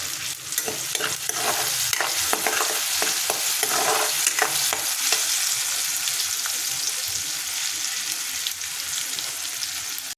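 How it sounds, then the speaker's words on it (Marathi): Onion and tomato stir-fry in oil in a pan, giving a loud, steady sizzle throughout, with scraping stirring strokes in the first half that settle into a continuous fry. "बघा असं मस्त असं भाजून घ्यायचं कांदा टमाटर वगैरे सगळं तेलामध्ये"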